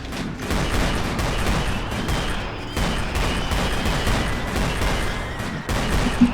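Focused gunfire in a video game battle from the game MGRP: a dense, sustained roar of overlapping shots with a couple of brief gaps, loud and close, and no talk over it.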